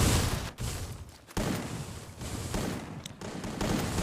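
Gunfire in the Free Fire video game during a competitive esports match: repeated bursts of rapid shots with brief pauses between volleys, fairly close and dense.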